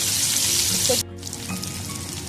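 Chicken popcorn frying in a pan of oil gives a loud, dense sizzle for about a second, then cuts off sharply and carries on as a quieter, steady hiss.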